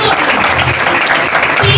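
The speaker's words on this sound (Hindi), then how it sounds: "और अब आपने जोरदार तालियां बजानी है जी हमारे पास्टर साहब के लिए" Loud applause from a congregation for a pastor at a sermon gathering: thick, continuous clapping close by, filling the whole short stretch.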